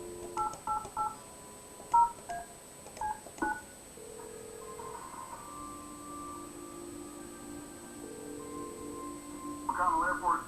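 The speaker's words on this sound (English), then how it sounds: "let's dial the number." A telephone number is dialed in the Kathy Rain video game: a quick run of touch-tone beeps followed by steady ringing tones, with a faint background hum and no talking.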